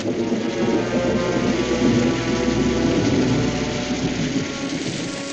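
A heavy rainstorm pours down in a loud, dense steady wash, with deep thunder rumbling underneath and swelling in the middle before slowly fading.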